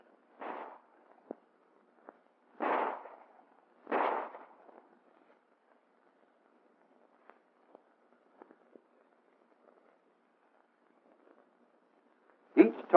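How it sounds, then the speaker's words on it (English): A 1911 handgun fires live tracer ammunition on a 1944 US Army training range: a few sharp, well-spaced shots ring out against near silence, with a final louder pair at the end. "Now let's see how these same men will do with live ammunition."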